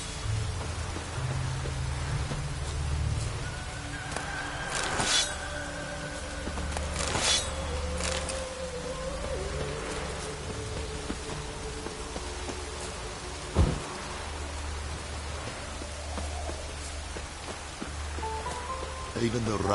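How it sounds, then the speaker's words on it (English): Rain falls in the fantasy video game The Witcher, a steady close hiss of drops under game music and character voices, with a sharp crack partway through. "Even the rain smells different here."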